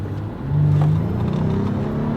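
Toyota 4Runner engine accelerating hard, a loud close rising drone that swells after half a second and holds steady with a rising pitch.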